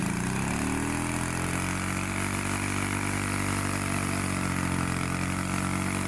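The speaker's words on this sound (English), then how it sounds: "So now this engine is technically a 8 horsepower engine, which spins the tires really good." A modified 8 horsepower gas scooter engine idling, a loud, close, steady buzzing drone with a slight pitch drift that cuts off abruptly at the end, no talking.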